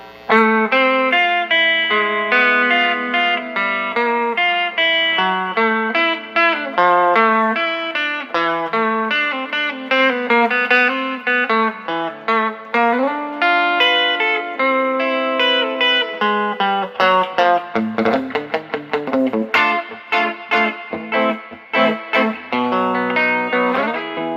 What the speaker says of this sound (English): next let's hear it with the drip switch engaged, so we've got that lower level of reverb now